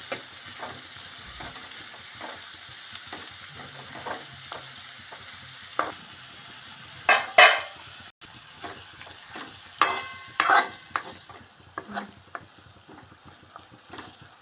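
Green onions frying in oil for dhaba-style pav bhaji, stirred with steady scraping strokes over a continuous sizzle, with several louder clattering scrapes in the middle of the clip.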